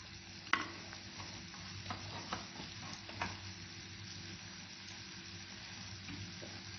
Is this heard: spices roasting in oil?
yes